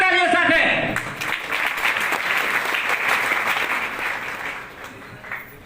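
An audience at a speech event breaks into loud, dense applause that swells at the start then continues steadily, with a voice briefly audible at the opening.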